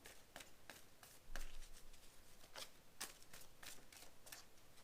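Tarot cards drawn and shuffled from a deck during a reading: a steady series of crisp, quiet card snaps and flicks, roughly one every half second, close up with no talking.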